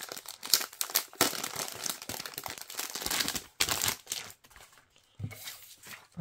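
A Kirby reusable bag is unwrapped from its plastic packaging, giving close, loud crinkling and rustling in irregular bursts with short pauses between them.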